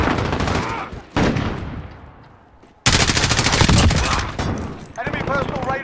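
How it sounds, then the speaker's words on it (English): Rapid automatic gunfire from a deployed sentry gun in a first-person military shooter, loud bursts of shots with brief pauses, mixed with other game effects and faint voice chatter. "Sentry gun out."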